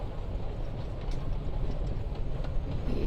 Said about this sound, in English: You're on a freaking train with Rachel freaking Amber